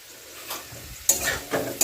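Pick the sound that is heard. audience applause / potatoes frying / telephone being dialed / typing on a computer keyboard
potatoes frying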